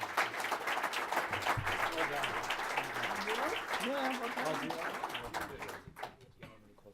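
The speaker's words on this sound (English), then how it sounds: "let's give the panel a round of applause" An audience at an Arctic and U.S. national security panel gives sustained applause, a dense clatter of clapping with voices talking over it before it fades out near the end.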